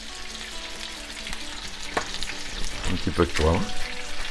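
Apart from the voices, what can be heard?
rump steak searing in a frying pan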